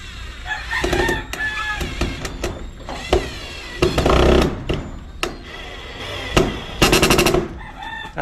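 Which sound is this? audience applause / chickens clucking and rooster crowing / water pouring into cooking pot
chickens clucking and rooster crowing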